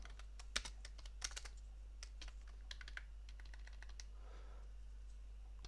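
Quick bursts of keystrokes as code is typed on a computer keyboard, light clicks close by and fairly quiet over a low steady hum, with a short pause before a final few taps.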